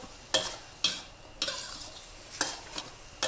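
Glass noodles being stir-fried in a pan with dark soy sauce: sharp scraping stirs at uneven intervals, about six in a row, over a faint steady sizzle.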